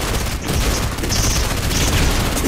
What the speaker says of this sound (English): Yeah, but I have an explosive gun now.